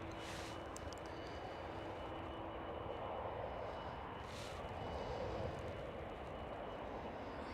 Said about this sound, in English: There goes the KLM Cityhopper E195E2.